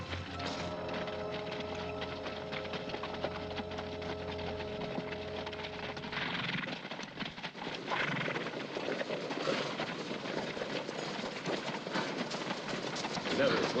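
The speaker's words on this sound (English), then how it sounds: "Horses." A herd of horses in a western setting, heard as a steady rumble of hooves with scattered clip-clop beats, faint neighing and a low droning tone in the first half, loud and close throughout.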